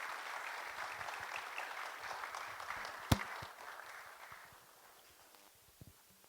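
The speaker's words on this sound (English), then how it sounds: "could we have a round of applause for all of our panelists for the great information?" An audience at an African nuclear business conference session claps for a panel, a dense round of applause that holds steady, then thins and fades away, with one sharp knock midway and a few stray claps near the end.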